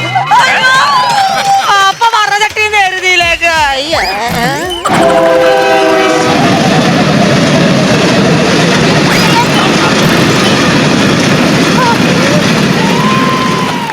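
A train passes close by near Olavakkode railway station in Palakkad, its horn sounding in long wavering blasts before the loud rumble and clatter of the passing carriages takes over and continues steadily.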